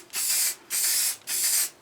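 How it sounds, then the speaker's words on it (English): Three short bursts of spray paint from a rattle can, laying a final coat on a Triumph bash plate in a garage; each hissing pass lasts about half a second, close and steady, with brief gaps between. "Rattle cans are always a little bit different."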